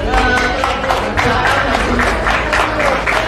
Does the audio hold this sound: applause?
yes